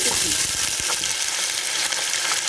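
Five medium onions hit half a cup of ghee and three spoons of oil, setting off a loud, close, continuous sizzle with brief stirring scrapes.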